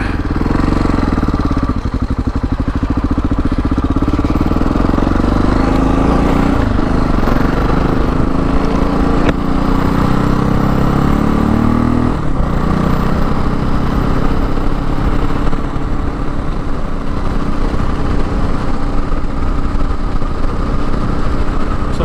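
A Yamaha XT660Z Tenere motorcycle being ridden on a high ridge road, its engine droning loud and steady throughout, rising and falling in pitch through gear changes, with wind rush and no talking.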